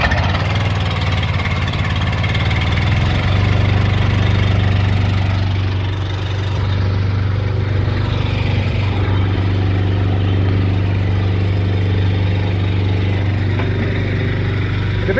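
A Ford F350 V10 service truck with 360k miles, left sitting for six months, cranks and catches, then settles into a steady, close, low rumbling idle that runs unbroken to the end.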